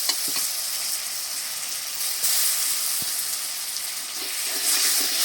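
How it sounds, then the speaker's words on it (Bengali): Loud, continuous sizzling and frying hiss as cumin paste with salt, turmeric and a little chili powder is stirred into a pan for a desi tengra fish curry with potato and tomato, with a few faint scrapes of the stirring utensil. "জিরে বাটাটা দিয়ে আমি আবার একটু নেড়ে চেড়ে নিচ্ছি।"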